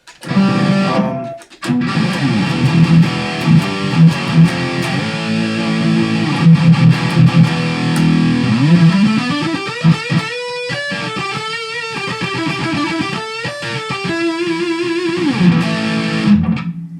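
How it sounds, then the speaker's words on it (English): Loud, heavily distorted BC Rich Mockingbird ST electric guitar with Floyd Rose tremolo playing a riff with sustained crunchy chords, bends and slides, continuous throughout with brief pauses. "it's got a great sound on Distortion too"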